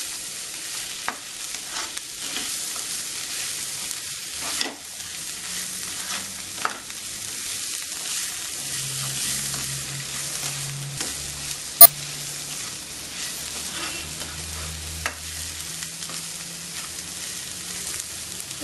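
Cauliflower frying in a pan, a soft continuous sizzle with occasional scraping taps of a spoon stirring, plus a low hum partway through.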